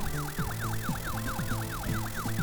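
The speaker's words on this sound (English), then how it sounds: "The sound of the ambulance's sirens only added to the song's power" Wailing ambulance sirens from the video game Mirrors sweep up and down in a steady repeating rhythm over a low sustained musical tone, loud and continuous with no voices.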